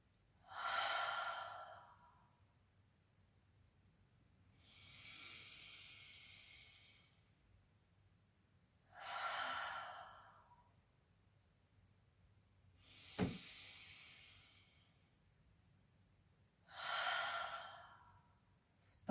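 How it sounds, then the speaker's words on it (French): Three slow, deep breaths during a relaxation exercise, each long inhale followed by a gentle exhale, spaced evenly apart and close to the microphone in a quiet room, with one sharp click midway. "on va même respirer 3 fois profondément"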